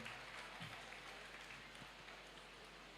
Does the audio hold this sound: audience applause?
yes